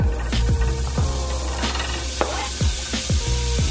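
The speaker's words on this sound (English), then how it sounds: "And now I'm going to cook the sausage." Vegetarian sausage sizzles steadily in a pan while being stirred, with repeated scraping and clacking of a utensil against the pan over the constant frying hiss.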